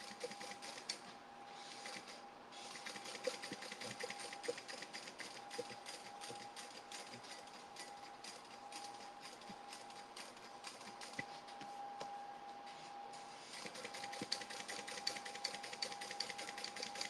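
A sewing machine runs a quick double stitch on a summer tote, a faint, continuous mechanical whir with fine rapid ticking that carries on steadily throughout, with a few short breaks.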